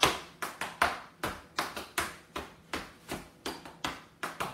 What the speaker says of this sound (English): Bonus clap.